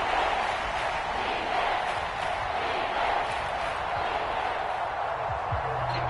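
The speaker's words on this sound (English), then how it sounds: "This crowd turning up the decibel level." A stadium crowd in a video game football broadcast roars steadily and loudly throughout, a dense continuous wall of cheering with no break.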